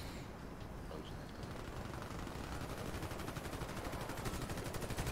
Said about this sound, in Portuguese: Experimentar o sniper agora.